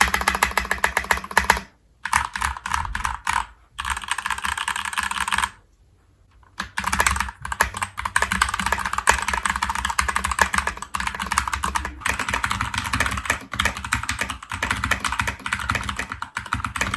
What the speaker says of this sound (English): I really love typing on this keyboard.